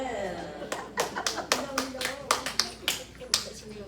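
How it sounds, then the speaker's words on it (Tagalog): People clapping at a birthday celebration, a brisk round of applause with a few quick, close hand claps and a voice in the background. "Salamat po sa isang pumalakpak"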